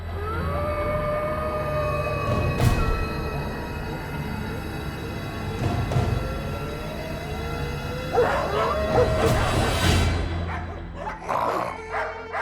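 Dogs bark and yip at midnight in a residential society, with several sharp barks and whimpering calls scattered over a steady background rumble, some near and some farther off.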